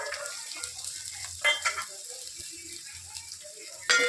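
Egg rice with spring onions and green peas being stir-fried, heard as a low steady sizzle with a few scraping stirs and clinks of a spoon against the pan, close by, with no talking.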